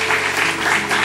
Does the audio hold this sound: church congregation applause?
yes